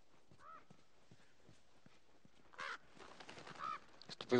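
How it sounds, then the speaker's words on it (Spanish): Crows cawing in the video game The Last of Us, heard as short harsh calls: scattered faint caws early, then several louder, closer caws in the last two seconds. "Estúpidos cuervos."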